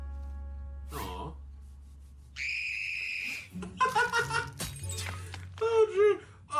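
A crystal mane shatters in a cartoon pony episode, a bright burst of breaking crystal with ringing high tones, set among gasps and excited voices as characters react.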